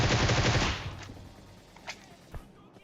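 Gunfire in the video game PUBG Mobile: a rapid burst of automatic shots, loud and close, that cuts off after under a second, followed by a few fainter single shots spaced apart.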